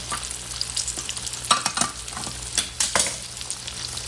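Breaded pickles fry in hot oil in a pan with a close, continuous crackling sizzle, broken by a few louder scrapes and clatters as they are moved around.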